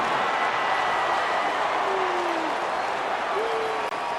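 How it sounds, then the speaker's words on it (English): Steady stadium crowd roar from an EA Sports College Football '27 game, Wyoming versus Ball State, filling the whole stretch at an even loud level with faint whistle-like tones over it. "there's all this crowd noise"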